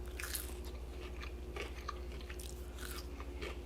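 Crispy air fryer sweet potato fries bitten and chewed close up, with several crunchy bites in a row over a low steady hum, and no talking.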